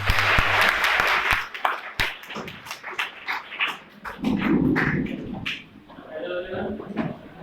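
A crowd claps at a career guidance seminar, a burst of dense applause at the start that gives way to people talking and scattered sharp knocks and thumps.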